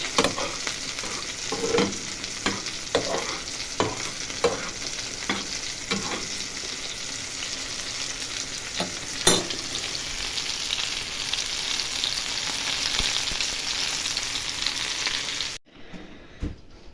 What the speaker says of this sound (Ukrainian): Гриби треба помішати.